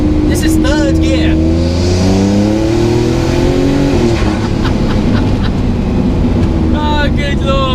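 A W Motors Supersport hypercar engine revs hard while accelerating in third gear, its loud rising tone climbing steadily then easing off, with people talking over it near the start and end.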